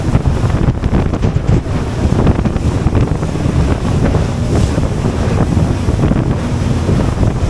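Strong wind buffets the microphone on a boat crossing a choppy sea off Elbow Cay in the Abacos, a loud constant roar with water rushing and slapping against the hull throughout, no voices.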